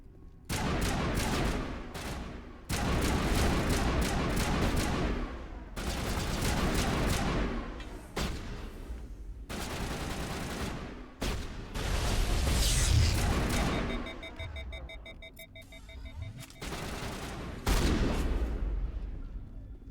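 Sustained bursts of gunfire in a Mass Effect firefight, loud and dense, with rapid volleys separated by brief pauses and mechanical clanks, continuing for the whole stretch.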